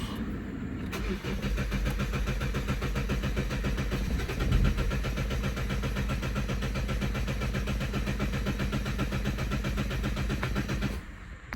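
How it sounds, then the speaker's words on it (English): A Mazda car engine with a disconnected fuel line cranks and then catches, settling into a steady, even idle that runs close and continuous for about ten seconds before cutting off. "So it took a bit longer to start up because I disconnected a fuel line"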